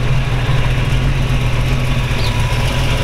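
A 1932 Ford Tudor with a 350 V8 idling steadily, a loud, close, even low rumble with a smooth throb and no revving.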